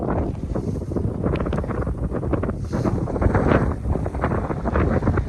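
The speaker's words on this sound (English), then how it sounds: "That wind!" Strong gusty wind buffeting the microphone by a lake with whitecaps, a loud continuous roar with rising and falling gusts, no talk.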